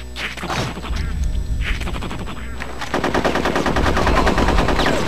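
Rapid machine-gun fire in the Conker's Bad Fur Day video game, loud and continuous bursts that grow denser and more sustained in the second half, with no talking.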